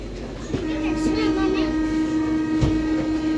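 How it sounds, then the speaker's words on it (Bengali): A metro train runs with a steady low rumble and a sustained tonal whine from inside the carriage, with a couple of brief clunks from the car and faint voices in the background. "এখন আমরা উঠবো মেট্রোতে"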